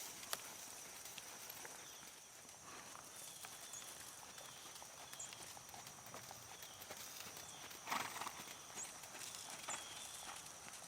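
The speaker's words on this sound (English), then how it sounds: "let's bring the horses back to the walk and let them take a little break" Horses walking during a group riding lesson, with soft, faint hoof clip-clop steps running steadily through the distance under a quiet arena background.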